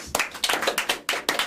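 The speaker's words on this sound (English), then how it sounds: "that deserves a round of applause." A small group claps for a short burst of applause, the hand claps sharp and close, with no talking over them.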